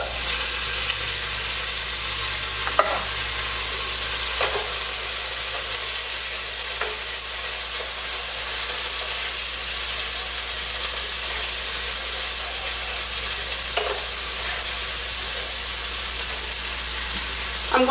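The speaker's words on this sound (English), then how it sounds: "I'm going to go ahead and add my chickpeas" Drained canned chickpeas sizzle in a pan for a vegan chickpea curry, a constant close hiss broken by occasional sharp clinks and scrapes of stirring spaced several seconds apart.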